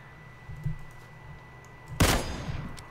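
A gunshot in PlayerUnknown's Battlegrounds: one sharp, fairly loud crack over a quiet background, with a few faint, muffled thumps before it.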